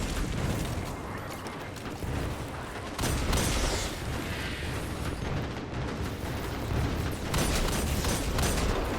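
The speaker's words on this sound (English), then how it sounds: "I'm going to toss a grenade down here on these dregs." Heavy in-game blasts and rumbling impacts from a grenade thrown at Fallen Dregs in a Destiny 2 lost sector, with loud bursts swelling around the middle and again near the end.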